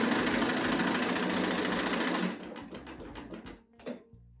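Sewing machine stitching a backtack on fabric scraps, a loud, steady rapid whirring run for about two seconds, then shorter stop-and-start bursts as the stitching reverses and finishes.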